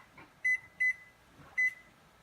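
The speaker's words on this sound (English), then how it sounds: "So now I'm just going to set my timer for 7 minutes." A kitchen timer is set while buttermilk syrup cooks on the stove: three short, bright electronic beeps, two in quick succession and then one more after a pause, clear against a quiet room.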